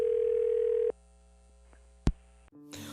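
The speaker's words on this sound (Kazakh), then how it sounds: "звонок кетіп жатыр" A phone-call tone sounds over the line: a steady tone holds for about a second and then cuts off, leaving a faint hum. A short sharp click follows, then a brief burst of line noise, all close and fairly quiet.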